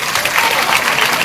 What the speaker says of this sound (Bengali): তাদের জন্য প্রথমে একটা জোর হাততালি হোক।